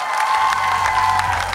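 An X Factor gala audience applauds and cheers in a bright, continuous burst of clapping with shouts and whoops mixed in, close and loud for the whole stretch.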